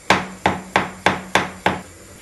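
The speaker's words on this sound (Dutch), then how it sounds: "De champignons zijn gesneden." Six sharp, evenly spaced knife chops slicing mushrooms on a cutting board, close and loud, each ringing briefly before the next.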